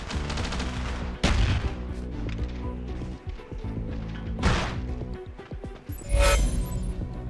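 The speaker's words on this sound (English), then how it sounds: "Shooting is what people want to do in a Call of Duty game" Gunfire in the video game Call of Duty Black Ops Declassified: bursts of shots and heavy impacts over a dense battle soundscape, with three loud thumping blasts standing out near and punchy.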